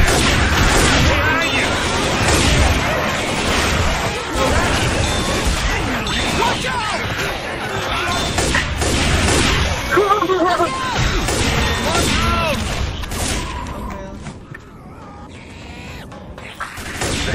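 Zombie shooter game gunfire with dense overlapping shots, crashes and impacts that rise and fall as voices shout over the chaotic mix.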